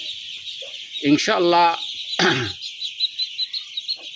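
Many two-day-old ducklings on a farm, part of a flock of about 500, keep up a continuous high-pitched peeping chorus close by while someone speaks briefly over them.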